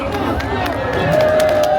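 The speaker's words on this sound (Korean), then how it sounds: "자, 박수하겠습니다." A large outdoor crowd at a rally against a presidential impeachment in Gwanghwamun, Seoul, raises a continuous roar of cheering and voices. A few sustained tones run through the noise, and clapping is hard to pick out.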